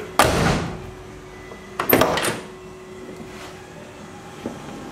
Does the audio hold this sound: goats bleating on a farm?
no